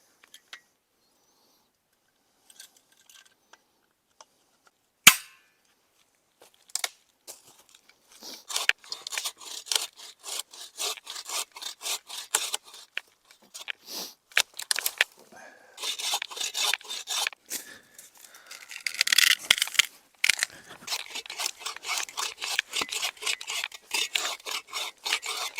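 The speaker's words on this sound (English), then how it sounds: "Okay, so we got our little folding saw here." A small folding saw cuts old firewood in the Adirondack woods, with a steady run of raspy, rhythmic strokes that start softly and grow louder and denser. The sawing plays alone, with no talking.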